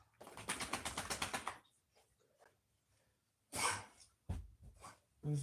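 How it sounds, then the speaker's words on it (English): A puppy just up from a nap makes a burst of snuffling, rapid panting noises, then a few sharp sniffs or sneezes after a pause, close by and fairly quiet indoors. "There's my puppy making some noise. He just got up from his nap."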